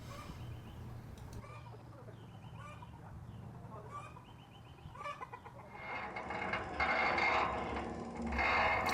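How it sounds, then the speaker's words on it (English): Backyard chickens cluck in short, scattered calls under a steady background rumble, and a louder, rough broadband noise takes over in the final seconds. "My chickens are getting crazy and started making horrible noises."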